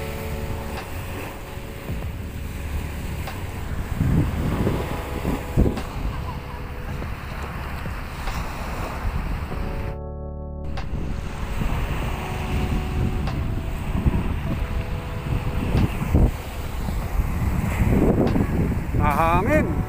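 Gusty wind roars across the microphone on a dolomite sand beach at Manila Bay, with surging low rumbles and a brief dropout midway; no clear speech.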